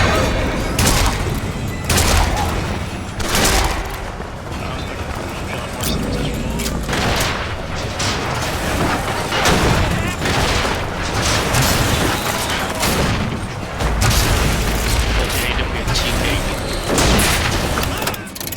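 Rocket explosions and gunfire in Bioshock Infinite, during the Vox revolution fighting: repeated loud booms and bursts of shots hit in an irregular rhythm over continuous battle noise, with voices shouting in between.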